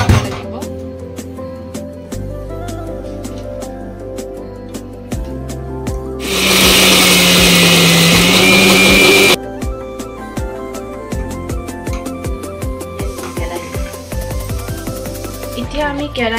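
Fresh coconut flesh whirs in a kitchen grinder to a fine paste: a loud, steady motor burst of about three seconds stands out over background music.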